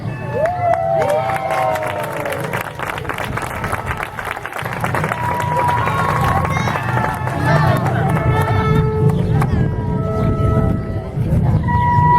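A large crowd cheers and shouts continuously, with whistles and scattered applause blending into a loud, sustained roar of voices.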